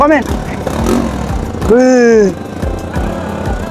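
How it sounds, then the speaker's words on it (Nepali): A motorcycle engine runs loud and close, rumbling unevenly before one brief rising rev that settles back to a rough idle. "हाम्रो भेनाले चाहिँ यहाँ रेडी भएर चाहिँ बाइक पड्काउँदैछ"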